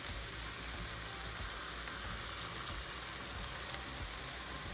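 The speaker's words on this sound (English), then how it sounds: "just stir that in there and brown or basically caramelize your onions" Onions and apples fry in a cast iron pan for a pork dinner with honey and Marsala wine, giving a soft, even sizzle that crackles faintly throughout, with no talking.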